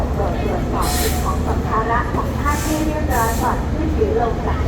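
Express train 43 sits at Ban Pong railway station in Thailand, a steady, loud rumble of engine and carriages that fills the whole stretch, with a public address announcement faintly mixed in.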